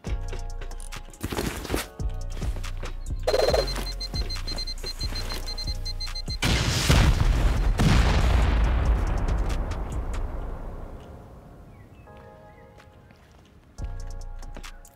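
Explosives blowing out an armored wall in the Rust video game: a loud burst of crashing debris that decays over several seconds, set among repeated electronic tones and steady game sounds.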